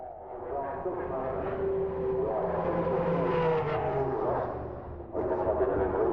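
Race cars, including the number 4 Mercedes, roar past during qualifying at Le Mans 1999, engine pitch rising and falling as they go by, loud and continuous beneath a commentator's voice.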